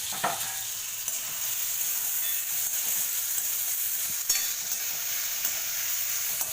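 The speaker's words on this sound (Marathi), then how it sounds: "थोडीशी अद्रक लसूण मी असं थोडंसं जाडसर वाटून घेतलं अद्रक लसूण ते टाकणार आहे" Coarsely crushed ginger and garlic go into onion and tomato browning in oil, producing a constant bright sizzle with a sharp spatter at the start and an occasional spoon tap, close and without speech.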